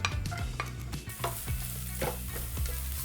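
Carrots stir-fry in sesame oil for carrot namul, a steady close sizzle broken by repeated scraping and stirring strokes of a utensil in the pan.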